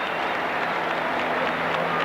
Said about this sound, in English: And there's the cheer.